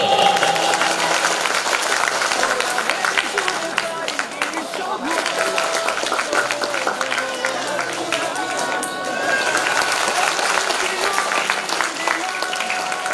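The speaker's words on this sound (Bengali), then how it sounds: "তার জন্য একটা জোরে করতালি" An audience at a concert in India claps loudly and continuously to welcome a singer, a dense steady applause with crowd noise lasting throughout.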